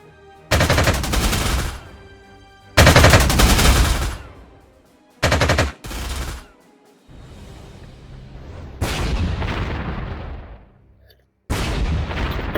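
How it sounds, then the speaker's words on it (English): Anti-tank gun shots in the World War II strategy game Panzer Corps 2, a Middle East scenario: several loud, close bursts of gunfire with booming tails, separated by short gaps, and no speech over them. "Anti-tank shots from the anti-tank gun."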